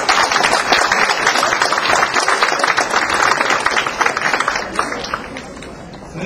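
Loud, dense applause from a crowd at an election campaign event in Toronto, sustained for several seconds and easing slightly toward the end.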